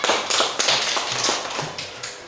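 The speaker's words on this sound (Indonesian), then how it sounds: "Kasih tepuk tangan untuk Rafa" Classroom applause for a student named Rafa: a short burst of dense clapping from a group of pupils, fairly close and steady, with no talk over it.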